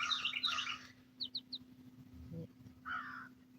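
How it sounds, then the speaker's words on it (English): Outdoor bird calls sound at moderate distance. A rough burst of calls comes first, then a few quick short chirps and another raspy call, set over a steady low hum. "Yeah, you hear that bird?"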